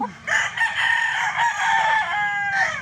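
A gamefowl rooster, a Boston Millionaire over Spartan Black cross, crows loudly and close by. It gives one long, strained crow lasting nearly three seconds, with no speech over it.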